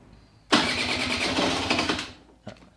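A cold Aprilia RS4 50 two-stroke motorcycle from 2012 starts up with an abrupt loud catch, runs raggedly for about a second and a half, then cuts out, followed by a brief faint sputter.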